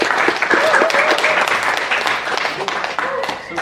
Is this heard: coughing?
no